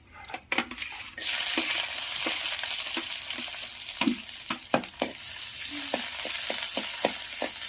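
Mustard seeds and onions sautéing in oil in a pan, a loud continuous sizzle with repeated clicks and scrapes of a spoon stirring against the pan.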